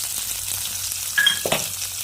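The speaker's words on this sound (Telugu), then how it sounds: "ఫ్రై అవుతున్నాయండి పల్లీలు, కొబ్బరి, పచ్చిమిర్చి" Peanuts, coconut and green chillies frying in oil in a pan, a soft steady hiss with a couple of brief stirring clicks near the middle.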